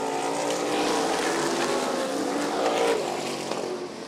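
Supermodified race cars roar around Meridian Speedway in a sustained, loud, dense engine drone, with several cars blending together as they pass.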